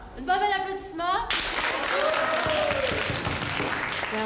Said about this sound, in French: Une bonne belle applaudissement!